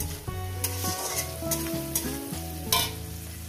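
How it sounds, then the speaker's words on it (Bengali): Onions and pointed gourd paste fry in a pan with a continuous sizzle and a few bursts of stirring, under prominent background music. "তো বন্ধুরা পেঁয়াজটাকে আমি ভেজে নিয়েছি। এরপর দিয়ে দেবো পটল বাটাটা।"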